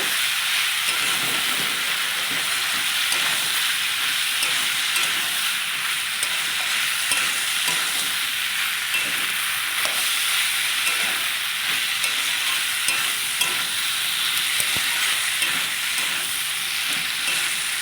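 Ripe tomatoes sautéing in a pan give a loud, constant sizzle and hiss, broken by faint scrapes from stirring throughout, with no voices.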